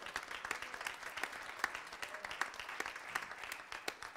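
Congregation at an Easter sunrise church service giving a hand clap of praise, a fairly faint, scattered patter of claps with a few sharper individual claps standing out and no talk over it.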